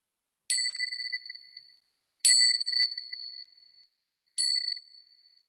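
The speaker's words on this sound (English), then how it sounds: "at the sound of the bell, you bring yourself back into the next moment of the session." A meditation bell rings three separate times, each strike clear and bright with a long, ringing decay that fades before the next, calm and alone with no talk.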